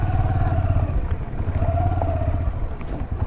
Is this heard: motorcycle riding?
yes